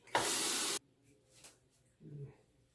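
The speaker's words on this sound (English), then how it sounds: "Okay, rinse the razor again." Water from a tap rushes briefly over a three-piece safety razor in a loud close spray lasting under a second, followed by faint soft rustles and a short low clatter.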